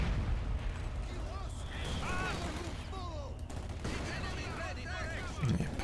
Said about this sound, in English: Mortar teams battling it out there.